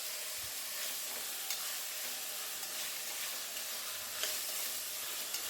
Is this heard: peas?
yes